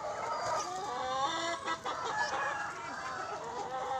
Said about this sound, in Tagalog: Ang cute ng mga bantam ko